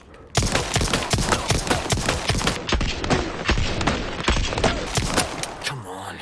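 Rapid gunfire from the Punisher handgun with laser sight in the Resident Evil 4 Remake video game, a dense fusillade of loud shots in quick succession that runs nearly the whole time.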